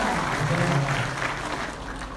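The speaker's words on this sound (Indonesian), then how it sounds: "tepuk tangan buat Yogi dan Zahra" An audience at a BukberKAT gathering applauds the couple Yogi and Zahra, a brief, even spell of clapping from a crowd that continues to the end.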